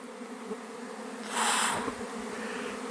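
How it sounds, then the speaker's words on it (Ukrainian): Honey bees being fed by a beekeeper give a close, loud burst of buzzing that swells for about half a second over a low background drone, then fades back to a quieter hum. "Ось так я підгодовую бджіл своїх."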